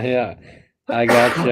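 A single sharp sneeze bursts out between bits of close conversation, with talking before and right after it.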